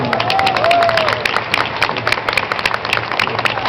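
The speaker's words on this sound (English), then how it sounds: "Round of applause for Janina Gavankar." Audience applause at a Q&A event fills the room with dense, steady clapping, loud and close, with a few voices mixed in.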